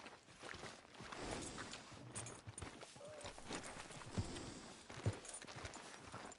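Horse hooves clip-clop at a walking pace in a PS4 video game, a faint, uneven series of soft thuds with a couple of sharper strikes near the end.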